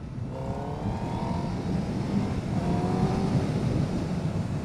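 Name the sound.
Honda Fireblade SP motorcycle engine revving, clutchless shifting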